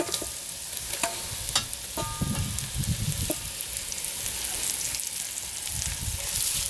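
Deer meat with bones and beef shank hit hot, smoking oil in a Dutch oven over a campfire, crackling and sizzling steadily up close with stirring clatter.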